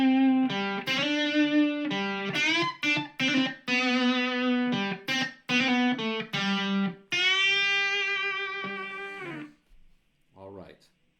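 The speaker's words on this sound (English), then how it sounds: "The first is sort of a classical sounding lick with a pedal note" Electric guitar plays the bridge solo of a song, a classical-sounding lick around a pedal note: quick bright distorted notes in rapid runs, then a sustained held note, loud and alone.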